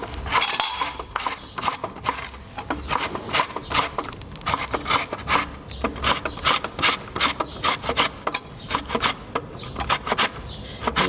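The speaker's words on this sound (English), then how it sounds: "And then I'm just going to use this side of the grater," Lemon zest rasped on the fine side of a grater, a run of quick, close scraping strokes in steady rhythm with no talk.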